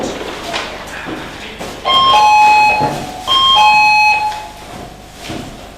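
Door buzzer ringing in two loud, sustained electronic bursts about a second apart, with quiet room noise around them.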